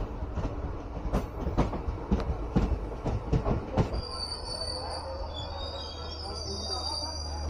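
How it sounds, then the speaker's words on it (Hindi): The Uttarbanga Express pulls into New Cooch Behar station: rhythmic wheel clacks and thumps give way to sustained high-pitched brake and wheel squeals as the train slows, over a steady rumbling background. "दोस्तों ट्रेन पहुंच चुकी है न्यू कोच बिहार स्टेशन"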